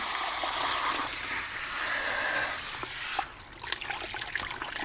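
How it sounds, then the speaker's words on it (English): Water rinses hair product from the ends of a client's hair at a salon basin, a close, steady rushing flow that abruptly drops to a thinner, patchier trickle with scattered splashes. "You want to hold that hair up and rinse the product from the ends of the hair."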